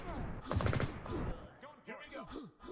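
Gunfire in Liblast, an open-source online first-person shooter built with Godot 4, comes as a short, rapid burst of shots early on, with a voice talking over and around it.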